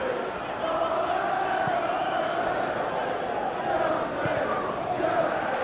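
A crowd roars steadily in an eFootball 2021 video game match, the Chelsea vs Manchester City FA Cup final, a continuous stadium swell that rises and falls slightly over several seconds.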